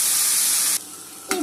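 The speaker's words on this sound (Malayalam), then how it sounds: "ചെമ്മീൻ വറുത്തെടുക്കാം." Washed dried shrimp fry in a hot clay pot, with a loud hissing sizzle that cuts off abruptly, then a short fresh burst of sizzling after a brief pause.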